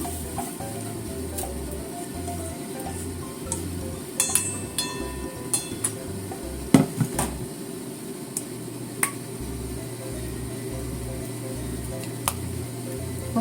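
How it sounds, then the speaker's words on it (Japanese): Carrots stir-frying in a pan, later joined by egg, give a steady close sizzle with scattered clicks and clinks of a utensil against the pan, running continuously without talk. "人参炒めてから、ちょっと炒めてから卵を入れて一緒に炒めたいと思います"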